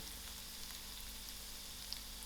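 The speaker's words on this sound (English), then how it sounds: "I'll allow this to fry a little. Now I'm going to add in my garlic." Garlic sizzling in hot oil for a prawn biryani, a steady soft crackle that stays quiet and even throughout, with no voices.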